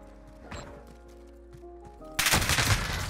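Light machine gun fire in a video game, shot through a wall, starts as a sudden, loud, dense burst after a quieter stretch of faint game ambience.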